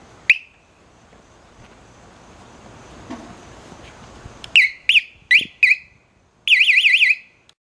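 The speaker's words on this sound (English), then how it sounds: "Get the radar detector on." Radar detector aboard a 2009 Yamaha R1 Crossplane motorcycle sounds a sharp startup chirp, then a quick run of loud separate beeps ending in a warbling alert tone, all close and clear over quiet surroundings.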